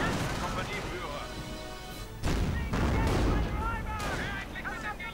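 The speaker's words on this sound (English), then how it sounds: "Mortars firing away." Mortars thump and gunfire crackles in a World War II strategy video game, with a sharp boom partway through and a dense, continuous battle din under a commentator's voice.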